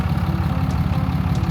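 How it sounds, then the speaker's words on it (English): A diesel truck engine idles steadily nearby, a continuous low rumbling drone with a faint rhythmic knock running throughout. "That's the sound of a diesel engine."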